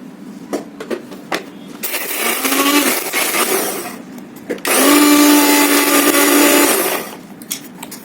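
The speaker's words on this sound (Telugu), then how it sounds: "వేసి మిక్సీ వేసేయండి." A mixer grinder grinding fried chillies with turmeric and salt runs in two loud whirring bursts, each a few seconds long. Short clatters and knocks come before, between and after the bursts.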